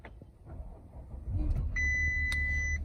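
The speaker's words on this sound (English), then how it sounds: "let's fire up the engine by pressing this button" A 2016 Audi Q7 S-Line started by push button: a brief starter whir and engine catch, then a steady idle hum, with electronic chimes sounding over the running engine.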